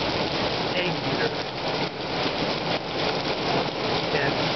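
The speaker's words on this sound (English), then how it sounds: "The white you see is hail." Hailstorm pelting down at Hawk Mountain Shelter, a dense, steady hiss of ice striking surfaces that continues without letup, loud and close throughout.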